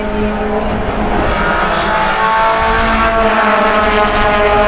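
Race cars in a VW Pozidrive Challenge A-class race sweep through the bends on the final lap, their engines a loud, steady, sustained roar with no voices.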